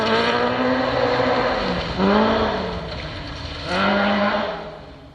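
A newly rebuilt historic-spec Mark II Ford Escort rally car on a BTRDA championship stage, its engine howling loud and close with rising and falling revs through gear changes and two pronounced swells as it passes.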